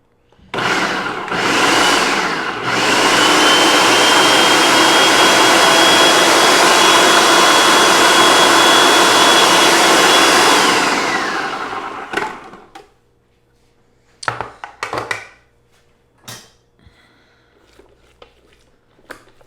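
A food processor whirs loudly as it purees chickpeas for hummus, a steady roaring spin of about ten seconds after two short pulses, followed by clattering handling sounds and scraping.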